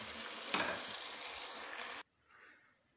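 Cauliflower and potato frying in a pan, a loud dense sizzle with a stir near the start, cutting off abruptly to near silence partway through.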